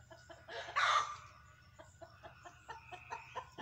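Backyard chickens clucking close by, one loud squawking burst followed by a series of short, rhythmic clucks and bawks that sound alone without voices.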